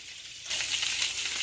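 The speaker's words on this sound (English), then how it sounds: "Fish is all seasoned up and frying nicely." Seasoned salmon fries in a pan, with a bright, steady sizzle that starts suddenly and holds at close range.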